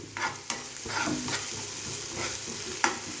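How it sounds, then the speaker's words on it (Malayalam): Green chillies and tomato sautéed with onion in a pan, a continuous sizzle broken by several sharp scrapes and clinks of a spoon stirring, close and fairly loud. "കുറച്ച് പച്ചമുളക്, കുറച്ച് തക്കാളി ഒക്കെ ചേർത്ത് നന്നായി വഴറ്റുക"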